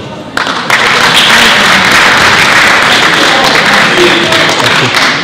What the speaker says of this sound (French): Je vois qu'il y a des applaudissements partis.